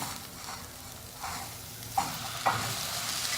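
Chicken and pepper powder being stirred in a hot pan, a low sizzle running underneath with a few scraping clinks of the spoon against the pan.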